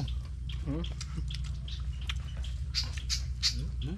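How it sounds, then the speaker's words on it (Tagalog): Many birds call outdoors in scattered squawks and chirps at moderate distance, repeated throughout over a steady low background hum. "Dami ibon."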